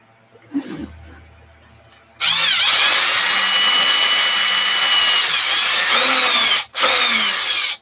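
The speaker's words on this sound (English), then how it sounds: "Give that a little ream." A power tool reams a hole in a Losi Monsta RC truck part: after a few faint handling knocks, a loud, close, continuous whirring grind starts, briefly cuts out, then resumes.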